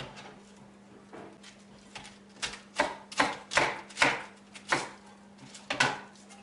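A knife chops vegetables into long stems for a chicken stir-fry with red cabbage, a run of about a dozen quick, irregular thuds on a board, close up, over a faint steady hum.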